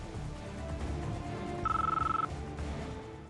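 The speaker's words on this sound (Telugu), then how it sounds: "స్వర్ణ ఫోన్ చేస్తుంది తాతయ్య గారు." A faint electronic phone ring trills briefly over a low background hum, heard once for under a second.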